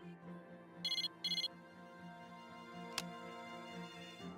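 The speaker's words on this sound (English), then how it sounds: "Fuka looked at a message she received on her cell phone." A cell phone message alert in the game Persona 3 Portable gives two quick bursts of high electronic chirps over a soft steady music bed, followed by a single sharp click.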